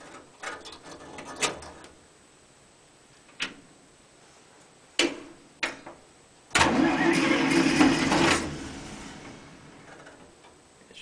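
A 1947 International Harvester KB-1 panel truck engine on a cold start: several short clicks and cranking bursts, then the engine catches and runs loud for about two seconds before fading, all close by.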